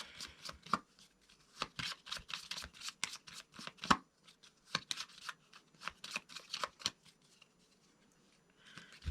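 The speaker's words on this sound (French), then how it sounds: "Et je vais battre mes cartes." A deck of playing cards is shuffled by hand during a card trick, giving a quick, close run of crisp riffling bursts and flicks, repeated in uneven rhythm for several seconds with no talking.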